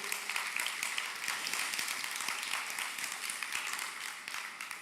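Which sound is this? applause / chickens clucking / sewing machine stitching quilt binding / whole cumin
applause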